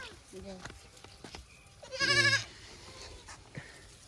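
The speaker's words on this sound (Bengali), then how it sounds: "এখানে দুইটা ছাগল বড় বড়" Two large goats bleat nearby, with a few short cries and then one loud, wavering bleat, mixed with soft outdoor background noise.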